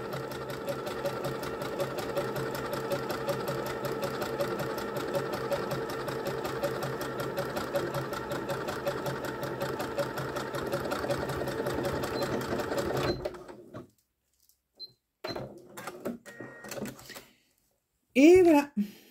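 A sewing machine stitches slowly and steadily for about thirteen seconds, close and continuous, then stops, leaving quiet room sound with a few short voice bursts.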